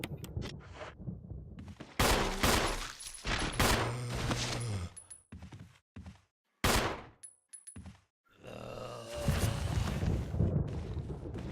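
Handgun fire at zombies in the Resident Evil remake video game comes through as loud, close bursts of gunshots and heavy booms, separated by brief silent gaps, with game sound effects and rumble between them.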